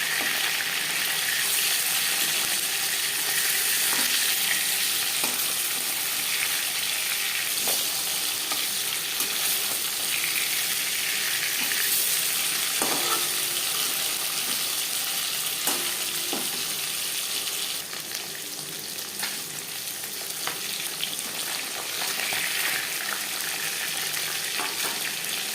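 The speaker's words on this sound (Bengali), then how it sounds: "প্রথম ব্যাচে মাছ ভাজা হয়ে গেছে, একটা পাত্রে উঠিয়ে নেব।" Pieces of silver carp frying in hot cooking oil: a loud, continuous, close hiss and sizzle with occasional crackles and small utensil clicks, and no talk.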